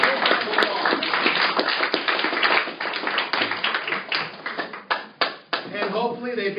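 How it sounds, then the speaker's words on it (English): A crowd claps steadily in sustained applause, dense and fairly loud, tapering toward the end. "Let's give them a big round of applause."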